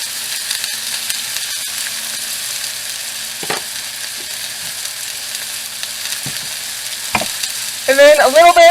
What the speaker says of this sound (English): Give that a good stir. Make sure everything's well seasoned.